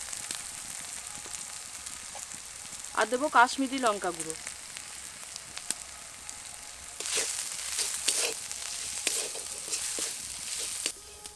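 Ground spices, including cumin, coriander and Kashmiri chili powder, fry in oil over ginger-garlic paste, with a few stirring scrapes. Someone speaks at first, then a dense hiss of sizzling and clattering rises in the second half.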